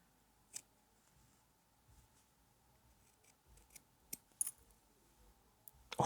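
Short pointed steeking scissors snip through knitted fabric in a quiet room, giving a few soft, sparse clicks and cuts spaced out over several seconds, with a sharper snip at the end.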